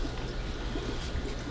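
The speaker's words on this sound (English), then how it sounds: "That drip." Water dripping and trickling from the disconnected hose of an Eheim Professional 4+ 250 aquarium canister filter, a brief, steady close-up patter of liquid.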